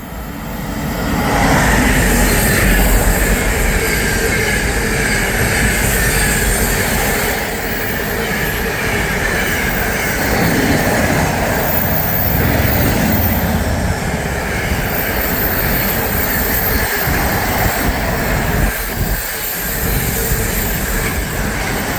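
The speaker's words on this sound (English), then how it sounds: "passing through now is a DRS 88 on the Tesco train from Daventry to Tilbury" A DRS Class 88 locomotive hauls a Tesco container freight from Daventry to Tilbury through Berkhamsted station, a loud, sustained roar and rumble of wagons rolling past with rhythmic wheel clatter and a few sharp thumps near the end.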